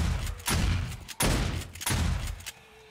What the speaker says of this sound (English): I should probably disable those shotguns just because they're not doing a whole lot of good